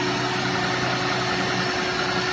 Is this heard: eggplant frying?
no